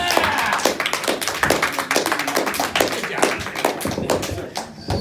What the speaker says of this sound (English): clap it on for Ethan Wallen, everybody.